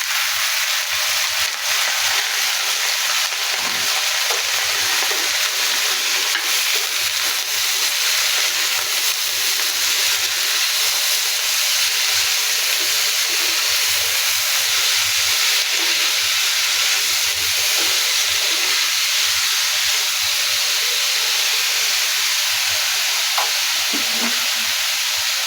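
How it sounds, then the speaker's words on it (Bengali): Chopped snake gourd frying with golden onions in hot oil gives a loud, continuous hissing sizzle with steamy spitting that holds steady and dense throughout, broken only by faint irregular stirring taps. "এখন আমি দিয়ে দিব আগে থেকে কেটে ধুয়ে রাখা চিচিঙ্গাগুলো।"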